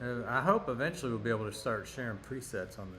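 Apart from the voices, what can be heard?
No everyday noises stand out.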